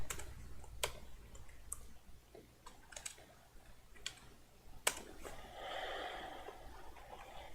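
Typing on a computer keyboard with one uneven leg produces irregular clicky keystrokes that rattle slightly, close and fairly quiet, in bursts with short pauses and no talking.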